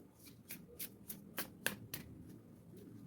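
Quick riffling bursts of Spanish tarot cards being shuffled, about eight crisp flutters in a steady rhythm, close up with no talking.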